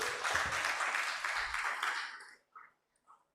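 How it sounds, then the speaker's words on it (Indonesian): Audience applause during an Easter celebration speech, a broad wash of clapping for about two and a half seconds that fades out, followed by a couple of faint scattered claps. "Tepuk tangan dulu sama Amang Preses."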